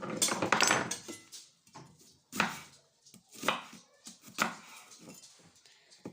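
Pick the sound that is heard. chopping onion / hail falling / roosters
chopping onion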